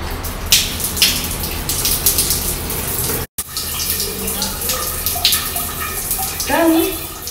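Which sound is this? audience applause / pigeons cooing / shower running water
shower running water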